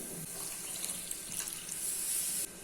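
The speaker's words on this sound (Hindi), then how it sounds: "अभी इसमें 1 कप वाटर ऐड कर देते हैं" A cup of water poured into butter chicken masala in a home kitchen, a steady close splashing rush lasting a few seconds, with no talk.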